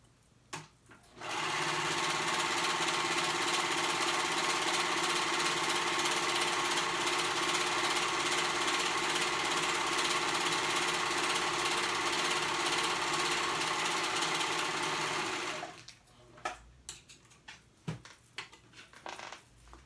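A sewing machine runs steadily for about fourteen seconds, stitching the outer edge of a pocket on an off-shoulder romper, then stops, leaving a few faint handling clicks and rustles.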